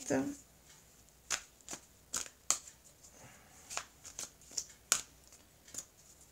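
A deck of oracle cards is shuffled by hand, with a series of crisp riffling and slapping bursts spaced irregularly over a quiet background, and a voice faintly present.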